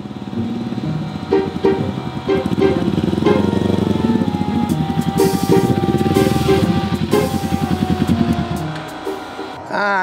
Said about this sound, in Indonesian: Nah guys, motornya udah nyampe.